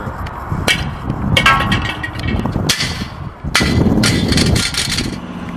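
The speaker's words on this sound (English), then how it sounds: "just try to brutally throw these Torq'd brand augers and rugged bottom plates down to show you the toughness of the material" Torq'd brand augers and rugged bottom plates are hurled down hard, producing several loud, sharp impact bangs and clatters with a noisy, reverberant background between them.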